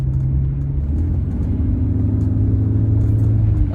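A 1983 Jaguar XJ6 Vanden Plas cruises along with a steady low engine rumble and road hum, loud and close from inside the cabin, holding constant throughout.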